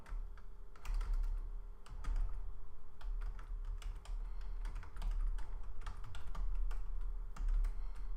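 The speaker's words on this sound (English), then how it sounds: "So we'll type Git demo again. Hit enter." Keys clatter steadily on a computer keyboard while commands are typed, irregular close clicks running throughout with a low hum underneath.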